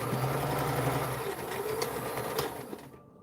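Close, continuous motor hum and rapid needle chatter of a sewing machine stitching padding at speed, running steadily for about three seconds before stopping abruptly.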